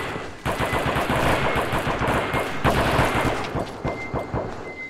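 Dense rapid gunfire in the game Alien vs Predator, loud sustained bursts of automatic shots with brief pauses, close and continuous, with no talking.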